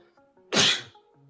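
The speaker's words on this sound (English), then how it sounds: "Man, and I'm sneezing." A person lets out one sudden, loud sneeze, close and alone, with a quiet room before and after.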